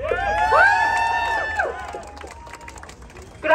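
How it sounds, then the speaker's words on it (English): Crowd cheering and whooping with some applause for a New York City councilmember at a public rally, loud at first with high shouted voices, then easing off before a fresh burst at the end. "Can we give another round of applause for Councilmember Christopher Marte"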